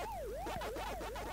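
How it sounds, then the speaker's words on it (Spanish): A police siren wailing in a rising and falling pattern, loud and continuous over a rumbling background, with no talk. "Pero eso es la sirena del policía."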